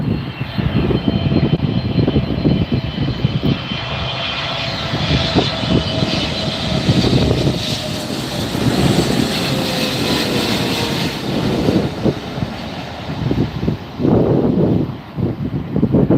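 An EVA Air jet passes close by at LAX with a loud, sustained engine roar and a slowly falling whine. Wind rumble buffets the microphone and no one speaks.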